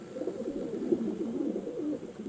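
Racing pigeons back at the loft cooing, a soft, low, continuous warble of several birds close by with no talking.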